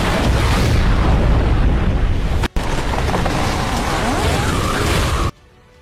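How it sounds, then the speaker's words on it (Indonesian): A mortar explosion in a film: a loud, rumbling blast fills the clip, roaring continuously before a brief cut, then continuing to rumble before dropping suddenly to near silence. "tali sebuah mortir akan aktif sehingga akan memicu ledakan yang begitu dahsyat."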